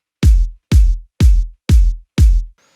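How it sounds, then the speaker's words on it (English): Five punchy kick drum hits, evenly spaced and tight with short decay, loud and dry with nothing else playing. "we needed a tight kick drum."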